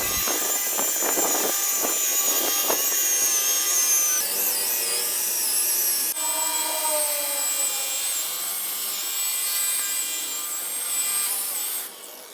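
A car polishing machine runs on a car's paintwork, a steady high-pitched electric whine with shifting pitch and a few rough bursts early on, continuous and close, then easing off at the end.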